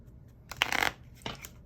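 A deck of playing cards is shuffled in two short riffling bursts, quiet and close, with a brief pause between them.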